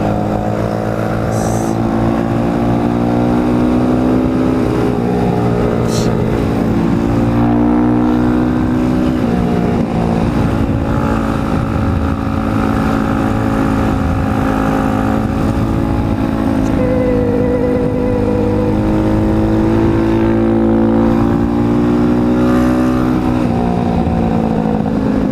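An Apollo RFZ Chinese dirt bike engine buzzes loud and close for a long stretch, revving up and down steadily as the rider moves along, with no voices.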